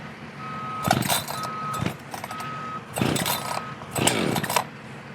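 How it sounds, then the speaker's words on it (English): Someone starts an Echo chainsaw on a farm with the choke on: about four sharp, rasping pull-cord yanks sound nearby, the engine not yet catching, while a faint steady beep tone runs in the background. "Sean, why'd you get an Echo and not a Steel? Because I can start this"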